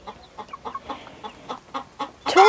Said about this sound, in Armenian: մի հատ ճուտերին նայենք էլ էդ իրանց հանգիստ վաղտը